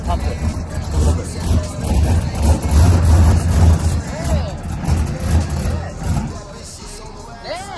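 A car engine revved lightly with the gas pedal, a mid-pitched engine drone that swells and eases while people talk over it.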